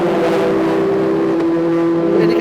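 Front-wheel-drive TCR touring race cars at the Macau Grand Prix, one engine droning loudly at a steady high pitch through a kink at the end of the start-finish straight, close and constant.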